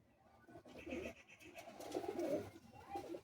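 Pigeons coo in a loft in Bagnan, with soft rolling calls rising and falling across a few seconds, fairly close and moderately loud, with no talk over them.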